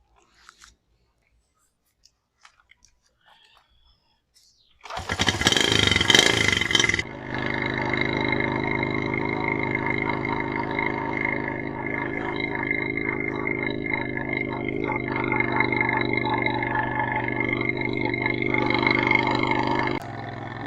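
Motorcycle with two riders on a cold village road near Khairpur, its engine starting up loudly then settling into a steady, close drone with wind noise that runs continuously.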